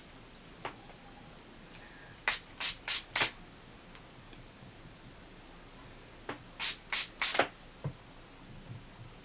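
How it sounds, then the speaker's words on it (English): Two bursts of quick spray pumps, four short hissing mists in each group, with a few faint clicks in a quiet room. "I use this as a setting spray because it gives the most pretty finish."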